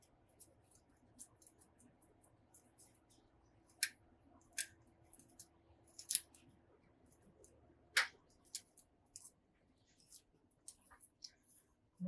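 Peeled garlic is cut with a knife in a kitchen, giving a series of sparse, crisp clicks and taps at irregular intervals, close but quiet against a faint background hum.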